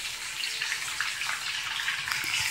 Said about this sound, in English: so I'm about to pour the rice in there.